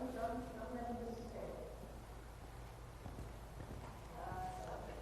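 Hooves of a dressage horse during a schooling session on flying and tempi changes, a steady clip-clop of footfalls at moderate distance under faint background voices.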